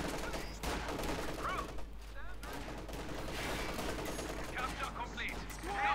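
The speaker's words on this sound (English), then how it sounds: "It's an awful lot of machine gun." Dense, continuous machine gun fire and overlapping gunshots from a Company of Heroes 2 World War II battle, with a flak half-track joining in, sustained and loud across the whole stretch with a voice talking over it.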